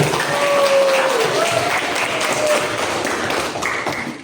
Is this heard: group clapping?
yes